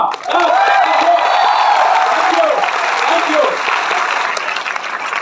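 Seminar audience in Ahmedabad bursting into loud, sustained applause with some cheering, the clapping filling the room steadily before easing slightly toward the end, with voices mixed in.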